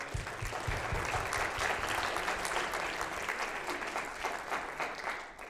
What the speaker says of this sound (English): we would like to clap for the Raymore Arts Commission for supporting us in that